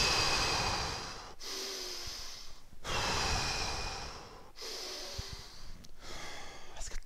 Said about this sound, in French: Prends 3 grandes bonnes respirations.